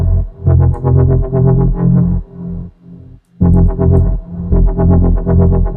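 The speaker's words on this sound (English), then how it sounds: "I added this like dubstep type sound, trying to be different, and I think it sounded really cool" Heavy, distorted dubstep-style synth built in Serum, its LFO wobble pulsing rhythmically in fast throbbing bursts, loud and gritty, with a brief drop-out in the middle before the wobble resumes.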